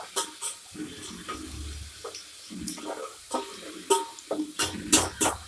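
Ginger, garlic and onion being stirred as they fry in a pan for biryani, with soft intermittent scraping and clatters of a spoon against the pan over a low sizzle, growing sharper toward the end.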